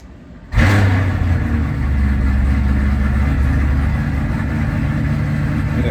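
A ZL1 Camaro's engine cranks and catches with a sudden loud burst inside a garage, then settles into a steady, deep, rumbling idle that holds close and constant.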